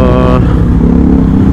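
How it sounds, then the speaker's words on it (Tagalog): A loud motorcycle engine revs and roars close by on a road trip in the Philippines. The dense, rattly engine noise continues steadily throughout, with a brief higher whine at the start. "Ang ingay na motor ng isa dyan. Bumomba pa."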